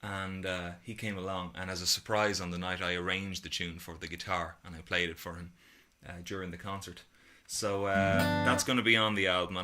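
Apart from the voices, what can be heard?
No distinct noise like a dog, phone or traffic.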